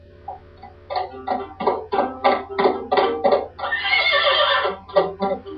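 A horse neighs in a long, loud whinny, a rapid series of shaking, pulsing cries that rises into a shrill peak before trailing off, with a low mains hum underneath.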